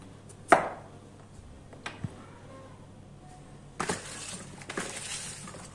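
Peeled carrots chopped with a knife on a board for winter pickles, a few sharp separate cuts followed by a quicker run of knocks, close and fairly quiet.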